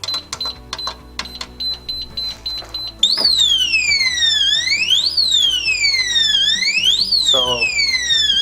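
An Ollieroo solid steel quick-access pistol safe with an electronic lock gives a few short keypad beeps, then sets off a loud, continuous alarm with a rising and falling electronic siren tone after the wrong code is entered a third time.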